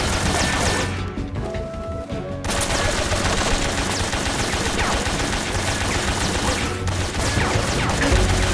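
Heavy gunfire in the video game Metal Gear Solid 2 on Hard difficulty, loud continuous rapid shots and crashing impacts with a brief lull early on, no talking.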